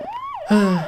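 Several police sirens wail together in the Clock Tower video game, rising and falling pitch sweeps that grow louder and denser halfway through.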